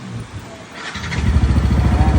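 Second-hand motorcycle engine starting up: a quiet stretch, then the engine catches around the midpoint and settles into a loud, steady low idle rumble, close by.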